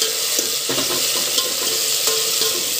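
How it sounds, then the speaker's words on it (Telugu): Fenugreek leaves frying in a pan for a mutton curry, a steady close sizzle with occasional stirring scrapes, no talking. "ఈ మెంతికూరని వేయించాలి"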